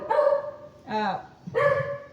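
A dog barks a few times in separate bursts, fairly close and moderately loud, against a quiet outdoor background.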